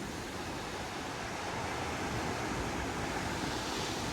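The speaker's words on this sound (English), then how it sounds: "Look at these waves right here." Ocean waves off Antigua in calm-looking sea, heard as a steady broadband wash of surf and wind, fairly quiet and continuous with no talking.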